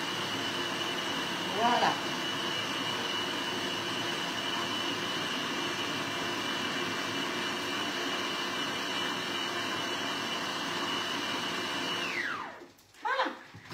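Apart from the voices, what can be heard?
kitchen robot food processor mixing continuously at speed 12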